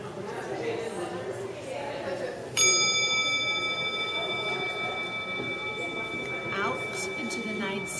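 Bell rung by a monk, a single sharp strike that leaves a long ringing tone slowly fading, over a steady murmur of background voices and room noise.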